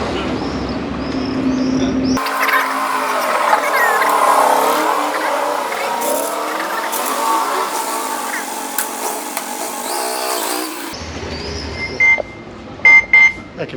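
A motorcycle engine revs and pulls away, loud and steady for several seconds, then fades, leaving brief electronic beeps and faint background noise.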